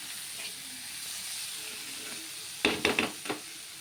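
Banana flower frying in a pan with fenugreek powder gives a soft steady sizzle, then a few short sharp crackles and stir clatters near the end.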